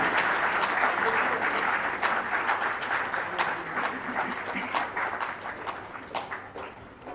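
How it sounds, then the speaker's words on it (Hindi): Dense, continuous audience applause fills a ceremony hall at an appointment-letter distribution event for community health officers in Ranchi, steady and close before easing slightly toward the end. "तालियां आपकी तरफ से।"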